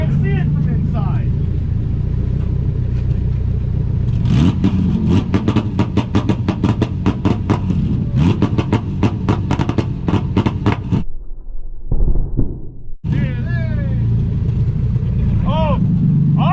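Car engine at a street car meet revved hard with the throttle floored, a loud, rapid run of throttle blips and roaring pulls close by, with a brief dip before the revving resumes; people talk and shout around it.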